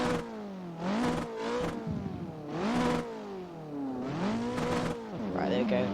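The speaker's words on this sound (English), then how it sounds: "I've just heard that my engine is too loud" A drift car's engine revving repeatedly, rising and falling in pitch in several swells across a few seconds, loud and close, heard from inside the car.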